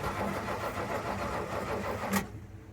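A Ford F-150 Coyote V8 fitted in a 1987 Malibu Sunsetter ski boat cranks and catches, a steady close engine rumble running for about two seconds before cutting off abruptly.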